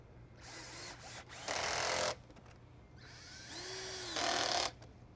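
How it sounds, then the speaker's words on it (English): A power tool with an 8mm socket tightens worm-gear hose clamps during a Hennessey air intake install on a 2013 Ford Raptor 6.2L. It gives two short, close whirring bursts with quieter pauses between them. "You can tighten your worm clamps with an 8mm socket."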